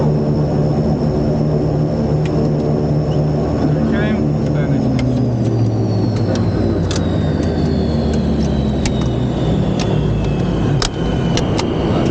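A loud turboprop engine on an Antonov airliner drones steadily up close, its pitch shifting and whining as propellers spin, with faint voices underneath.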